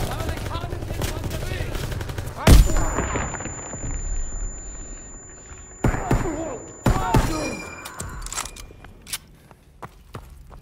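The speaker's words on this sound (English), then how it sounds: "Throwing a grenade!" Grenade blast and rapid gunfire from Call of Duty: WWII during the D-Day mission, with a sharp, loud thud near the start followed by scattered shots, footsteps and bursts of battle noise.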